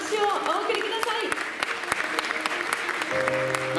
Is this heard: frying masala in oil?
no